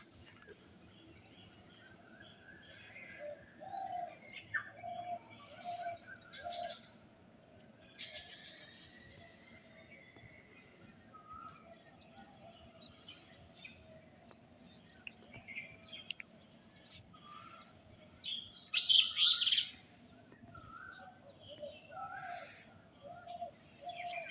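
Birds chirp and coo in a spring morning garden full of flowering plants, a pigeon or dove among them, with soft scattered calls throughout and a louder burst of chirping near the end over faint background noise.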